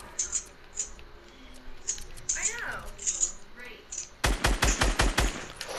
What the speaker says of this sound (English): Oh, I just got sniped at.